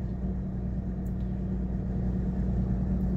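A Mercedes 300SD W126 engine idles at about 800 RPM with its electric auxiliary fan running, producing a steady, fairly quiet low rumble that holds constant throughout.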